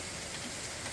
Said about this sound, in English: And the rains have just started from Tropical Storm Debby. You can see it's a very steady rain.